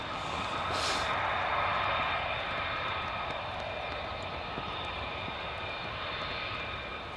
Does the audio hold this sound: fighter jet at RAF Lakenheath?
yes